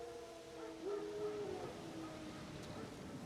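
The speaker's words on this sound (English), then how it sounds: "Wolves? No. Wild dogs." Wild dogs howl in The Witcher 3 video game, a faint, distant, drawn-out wavering howl rising and falling over a quiet ambient background.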